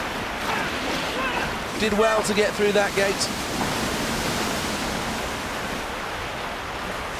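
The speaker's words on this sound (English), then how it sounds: "Stayed on top of the white water through Ben Nevis." Canoe slalom boat paddling through white water in the London 2012 video game, a steady loud rushing roar of churning water, with a commentator's voice heard over it briefly.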